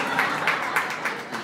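An audience claps in a dense, steady patter lasting the whole moment, with brief surges of louder clapping about every quarter second and a faint murmur of voices underneath.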